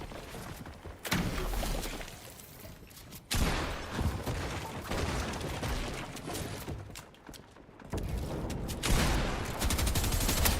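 Bursts of rapid gunfire crackle through a first-person shooter video game, several loud volleys broken by brief lulls, dense and sharp with no talking over them.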